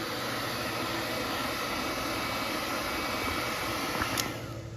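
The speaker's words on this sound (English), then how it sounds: "I'm going to heat this up with a hair dryer" A hair dryer blows with a constant, fairly quiet whooshing hum while heating a Ford Bronco tailgate badge, with a brief click near the end.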